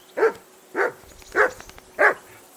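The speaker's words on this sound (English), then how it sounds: "That barking was a pain in the ass." A dog in the video game Kingdom Come Deliverance 2 barks four times in a steady, evenly spaced rhythm, each bark loud and close against a quiet background.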